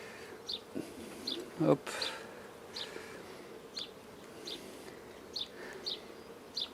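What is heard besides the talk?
honeybees buzzing during hive inspection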